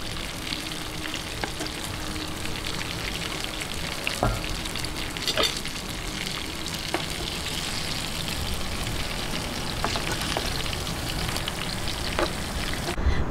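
Milkfish (bangus) frying in hot oil until half cooked, a continuous close sizzle and crackle with occasional sharper pops, heard alone without talk.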